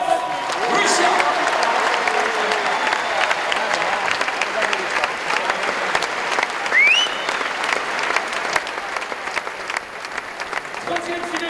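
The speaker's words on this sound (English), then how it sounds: "Applaudissements pour l'incroyable Rostam Gelmanov" Sustained applause from an arena crowd greets Russian climber Rostam Gelmanov at a bouldering world championship final in Paris, a steady dense roar of clapping with a whistle and an announcer's voice heard over it.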